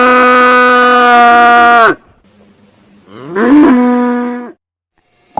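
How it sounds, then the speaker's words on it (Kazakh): A cartoon-style cow gives two long, loud, droning moos separated by a short pause, with nothing else underneath. "сиыр"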